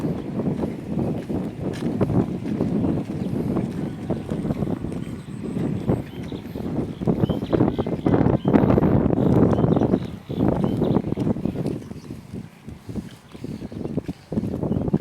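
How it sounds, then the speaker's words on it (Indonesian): Strong gusting wind buffets the microphone outdoors by the water in a village, a loud rough roar that surges and drops in waves throughout, with brief dips near the end. "Angin namanya ngegelebuk pisan."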